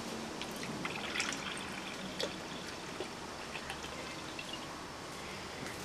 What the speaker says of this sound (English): So what I do is I would pour off the rest into the jug.